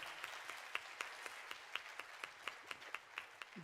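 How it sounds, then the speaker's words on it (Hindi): An audience at an international management conclave gives a faint, distant round of applause for a lyricist guest, with a dense wash of clapping marked by regularly spaced louder claps. "तो एक बार थोड़ी जोरदार ताली हो जाए हमारे स्वानंद भाई के लिए"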